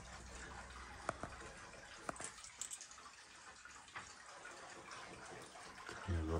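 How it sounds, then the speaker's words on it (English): Water runs from the first pipe inside an abandoned cinema and bingo hall in Halifax, a steady watery wash with a few sharp knocks and clatters over it, fairly faint and heard without speech. "water running because it's the first pipe"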